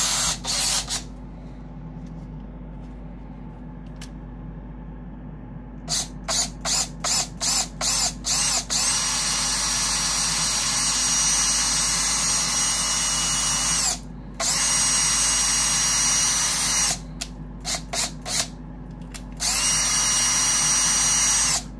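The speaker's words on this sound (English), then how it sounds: "So let me get this drilled, and we'll get the funnel into the hole." A power drill bores a hole into a hollow plastic statue, sounding in short stuttering pulses that give way to long, loud continuous whirring runs, close up and with no voices.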